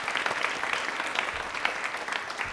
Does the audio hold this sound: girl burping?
no